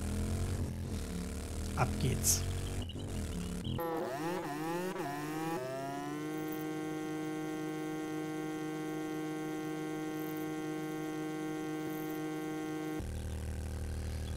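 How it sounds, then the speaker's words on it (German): Motorcycle engine in the survival game 7 Days to Die, a steady droning hum that rises in pitch as it revs up and then holds constant, with someone speaking briefly over the start. "Und ich nehme diesmal das Motorcycle."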